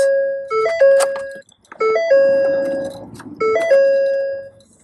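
A 2014 Ford F-250 Super Duty XLT 6.2 gas truck plays its key-cycle dashboard chime: a bright, multi-note melodic tone sequence repeated three times, loud and close in a quiet cab.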